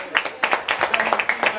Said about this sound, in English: Round of applause to Kev.